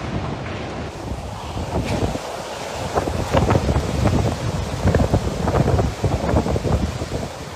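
Strong wind of Typhoon Ulysses in the Philippines buffets the microphone over a steady wash of heavy rain and floodwater rushing across the road, heard from inside a vehicle, loud and continuous.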